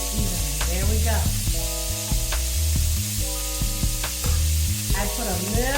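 Shrimp frying in olive oil in a pan, a steady loud sizzle throughout with stirring and tonal clinks and squeaks of a utensil against the pan.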